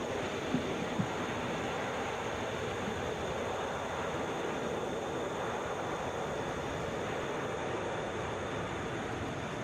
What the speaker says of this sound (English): Southwest 370, arriving from Kansas City, Boeing 737